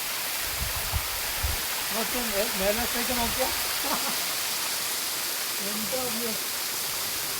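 Steady rushing water from a waterfall at a scenic spot, a broad continuous roar, with someone talking over it partway through.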